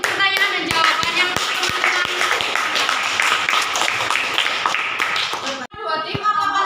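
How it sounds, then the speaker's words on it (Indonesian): Scattered audience clapping at a group debate, a few distinct claps spaced through the stretch, with a voice talking over them. "Beri tepuk tangan untuk pertanyaan dan jawaban yang"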